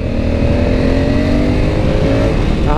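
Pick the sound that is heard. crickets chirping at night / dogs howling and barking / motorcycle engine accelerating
motorcycle engine accelerating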